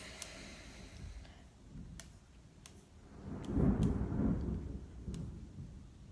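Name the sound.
thunder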